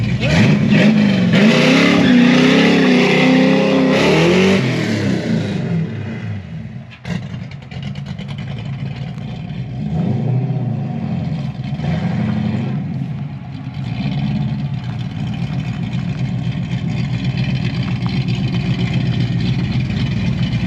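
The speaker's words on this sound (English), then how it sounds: "Let's just see if it'll do a launch on street tires" A Holley Terminator X equipped Fox Body roars loudly through a launch on street tires, the engine revving hard and then settling into a rough, rumbling idle close by.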